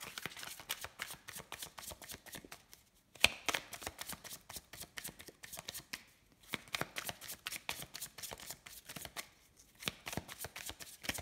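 Tarot cards are shuffled by hand up close, quiet rapid riffling bursts that repeat in several rounds with brief pauses between them and no talking.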